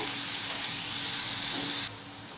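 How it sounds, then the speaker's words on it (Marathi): Tomatoes softening in a hot pan for a Malvani-style whole masoor amti give off a steady close sizzle with a faint hiss, which drops sharply in level near the end. "टोमॅटो आपल्याला छान नरम करून घ्यायचा आहे।"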